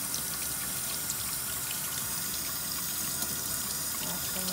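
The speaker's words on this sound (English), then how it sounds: "Washing our tomatoes." Tap water runs steadily from a kitchen faucet while tomatoes are washed, a constant close splashing hiss with no talking.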